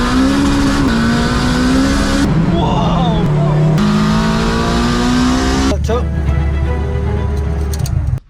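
A turbocharged 500 bhp Honda K20-swapped EK Civic accelerates hard from inside the car, its loud engine rising through the gears with steady droning revs and brief shifts, while a voice exclaims over the noise.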